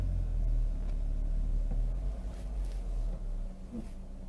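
A car's engine idles as the clutch is held on a hill, a steady low rumble close by whose tone shifts and drops slightly toward the end.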